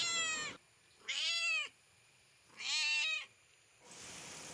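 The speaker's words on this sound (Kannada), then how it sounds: "ನಮ್ಮನೆ ಬೆಕ್ಕು ಕೂಡ ಅದರ ಭಾಷೆಯಲ್ಲೇ ವ್ಲಾಗ್ ಮಾಡ್ತಾ ಇದೆ ನೋಡಿ" A pet cat in a village house meows three times, each call drawn out and close, with quiet pauses between and a soft rustle at the end.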